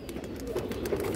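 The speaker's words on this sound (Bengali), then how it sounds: "পাথর চোখের কবুতর" Stone-eyed pigeons of an old bloodline, with black tails and wings, coo softly and continuously at close range, with no talking.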